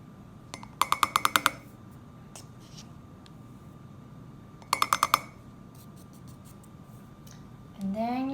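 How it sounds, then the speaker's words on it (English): A spoon adds two tablespoons of cocoa powder to a mug for a chocolate mug cake, heard as two bursts of rapid, bright clinks against the mug with a quiet pause between them. "Next, you're going to get 2 tablespoons of cocoa powder."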